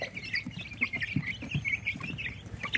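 Chickens in their cage give soft, close clucks and chirpy peeps in quick irregular bursts, fairly quiet, with light scratching and rustling underneath.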